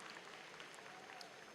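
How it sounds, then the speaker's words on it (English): Audience applause at a university spring commencement ceremony, a steady wash of clapping from a large crowd, moderately distant and even, with no voices over it. "A big round of applause."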